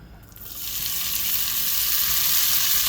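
Hot oil sizzles steadily in a frying pan, a dense crackling hiss that swells up within the first half second and holds close and loud, ahead of cooking hash browns for a steak, egg and cheese quesadilla.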